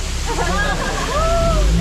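Water sprays and splashes steadily from the elephant shower on Disneyland's Jungle Cruise, a loud continuous rush close by, with a voice talking over it.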